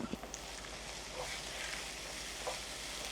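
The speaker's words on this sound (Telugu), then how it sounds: "కారం వన్ అండ్ హాఫ్ ఇప్పుడు వేసుకున్నా నేను ఆయిల్లో ఫ్రై అవ్వటానికి" Ginger garlic paste and chili powder frying in hot oil for a spicy prawn curry, giving a steady, moderately quiet sizzle with soft stirring scrapes throughout and no talk.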